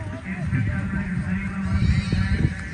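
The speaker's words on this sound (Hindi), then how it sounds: "घोड़े वार्म अप कर रहे हैं।" Horses warming up at a stadium race meet give off whinnying calls over a steady crowd and engine-like rumble, with voices chattering throughout.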